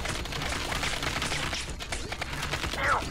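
Gunfire in the video game Kane & Lynch: Dead Men, heard as rapid, clattering bursts of shots that run almost continuously at a moderate level.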